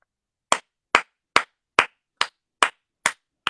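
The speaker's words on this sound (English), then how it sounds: "let me just give you a hand clap" Eight sharp, evenly spaced hand claps, close and distinct, with silence between each one and no talking.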